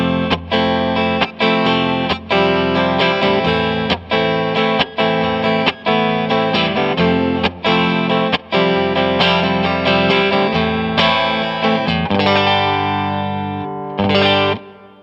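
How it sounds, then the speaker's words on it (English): A clean electric guitar played through a Hall of Fame reverb pedal strums bright chords in a steady repeating rhythm, close and fairly loud, ending with a final chord that rings out in a shimmering reverb tail. "This is what my clean sound is like just through the Hall of Fame reverb pedal."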